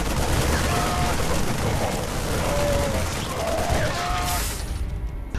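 StarCraft 2 Marines firing during an attack wave against a bunker, a dense continuous crackle of rapid gunfire with a few thin tones above it, steady and loud until it cuts off near the end.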